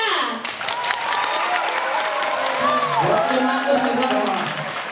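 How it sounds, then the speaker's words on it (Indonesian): An audience at a village temple festival claps for Raska, producing steady applause from the crowd with talking and background voices over it. "Tepuk tangan buat Raska."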